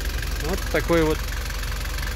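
A 1993 Nissan Atlas 4x4 fire truck with a TD27 diesel engine idles in a steady, low, even rumble, while someone speaks briefly over it.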